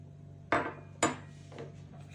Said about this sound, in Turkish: Şekil verdiğim hamurun şimdi üzerine çatal yardımıyla desenini çiziyorum.